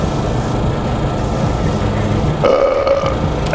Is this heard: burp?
yes